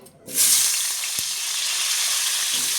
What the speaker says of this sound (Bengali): তেল দিয়ে দিয়েছি, এখন আমি আলুগুলো ভাজা করে নেব।